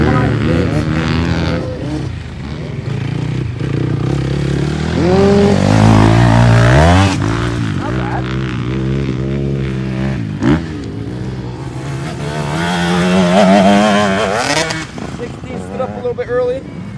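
Motocross bikes at a riding camp pass by with engines revving and climbing through the RPMs, a steady rising and falling roar that swells near the middle and again later, under a person talking.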